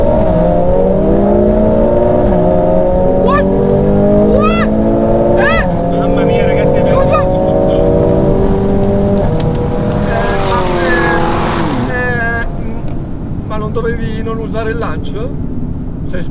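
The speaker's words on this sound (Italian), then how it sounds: "Adesso, ragazzi, gli facciamo una partenza con launch control" A launch-control drag start between an AMG A45 S and a BMW M2 Competition, with a loud engine revving and rising hard through the gears close by while people talk and shout over it.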